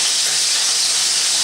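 Meatballs frying in a pan give off a loud, dense, continuous sizzle up close, steady and hissing throughout with no talk over it.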